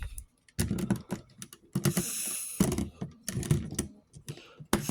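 Plastic Transformers Starscream toy being folded at its leg and shin hinges, giving crisp, close clicks and snaps in irregular clusters with brief rustles between.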